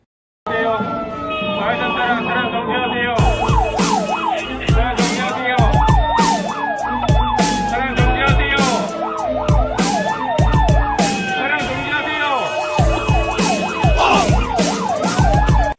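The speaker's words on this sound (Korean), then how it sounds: "지금 보여드릴 영상은 실제 소방 차량의 적신호 시 교차로 돌파 상황입니다" A wailing fire truck siren rises and falls repeatedly, loud and close, with several overlapping siren tones and traffic noise as the truck crosses a busy intersection against a red light.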